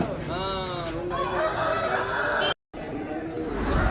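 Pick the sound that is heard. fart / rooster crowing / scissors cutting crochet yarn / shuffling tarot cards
rooster crowing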